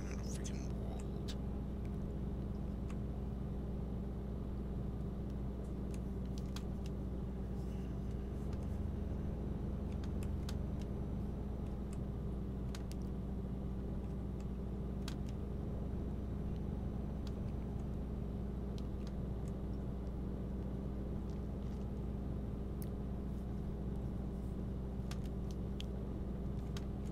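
A truck pulling a trailer in the Euro Truck Simulator 2 video game drives slowly with a steady low engine drone and road rumble throughout, with faint clicks on top.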